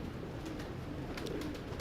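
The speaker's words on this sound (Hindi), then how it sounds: "ये भी ब्रीडर कबूतर है जी" Breeder pigeons coo softly in a steady low murmur, a continuous close warble with a few faint higher chirps, no talk over it.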